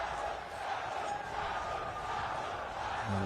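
A steady roar from a large cricket stadium crowd at a T20 match, a continuous dense wash of cheering and noise at moderate distance with no clear individual voices.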